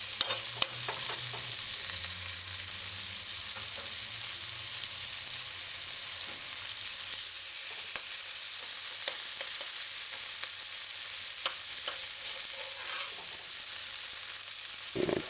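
Onions and scallions sautéing in a pan on low heat for sloppy joe burgers, a steady sizzle with occasional stirring scrapes, close and continuous, with no talk.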